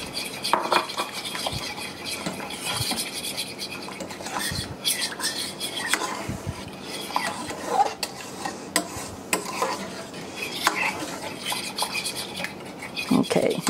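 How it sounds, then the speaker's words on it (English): Egg custard mixture for peaches and cream frozen custard being whisked and stirred in a bowl, with steady scraping and clinking of a utensil against the dish, moderately close, no talking. "I'm going to mix that up real good."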